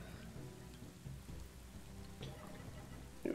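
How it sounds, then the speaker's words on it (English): Acid rain in the video game Spiral Knights patters steadily as a dense, even hiss of falling drops, with a few sharper spatters and a louder burst at the very end. "There's acid rain here."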